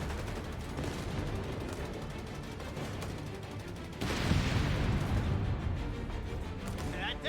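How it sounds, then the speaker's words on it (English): Gunfire in Company of Heroes 3, a World War II strategy game, crackling steadily through a dense battle din of shots and rumbling. It swells louder about halfway through, with a voice talking over it. "One guy's shooting in this direction."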